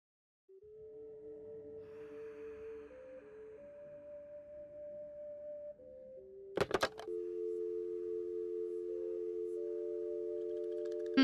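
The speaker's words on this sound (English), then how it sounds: "God, that dial tone." A steady electronic telephone dial tone in the video game Nancy Drew: Secret of the Scarlet Hand drones for several seconds, shifts pitch briefly, then a short burst of noise cuts in before a louder sustained tone continues.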